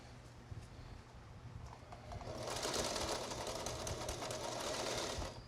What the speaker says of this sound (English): I'm sewing one edge up.